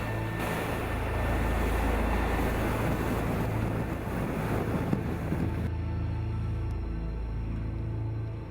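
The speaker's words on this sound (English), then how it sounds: "The wind had whipped up the seas, but the weather was from aft, so our ride was far from uncomfortable." Strong wind and whipped-up seas rush steadily around a sailing boat at sea, with a following wind, as a dense, loud roar of wind noise and surf that eases slightly in the final seconds.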